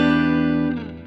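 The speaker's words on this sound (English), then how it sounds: "I think it's a great sounding reverb." Guitar through a digital reverb on a NUX Cerberus multi-effects pedal: a sustained, rich chord rings out alone, its lush tail slowly thinning and fading over about a second.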